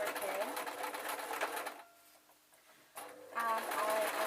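Sewing machine stitching around fabric slippers, running in a loud steady whir, pausing for about a second mid-way, then starting up again.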